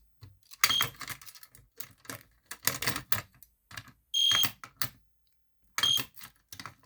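An EST fire alarm pull station is opened, giving a few sharp plastic and metal clicks and rattles in separate short bursts with quiet gaps between.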